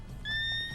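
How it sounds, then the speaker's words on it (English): Horse whinny from The Witcher 3 with the W3EE mod, a short rising neigh with a whistling tone over a low ambient rumble, heard alone and moderately close. "These horses, they could be a little skittish."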